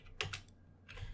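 A website address being typed on a computer keyboard, a short quick burst of close key clicks, a pause, then a few more taps, quiet with no talking.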